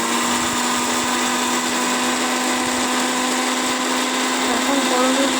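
A kitchen mixer grinder whirs steadily at close range, its jar grinding dry spices for mango oil, a loud continuous motor drone with no pauses.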